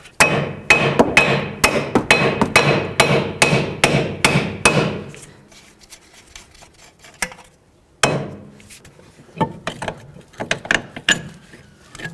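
A hammer striking the steering knuckle of a 2005-2009 Chevy Equinox during front lower control arm and ball joint replacement, about a dozen sharp metallic blows in quick succession, then scattered clanks and a few more hits after a pause.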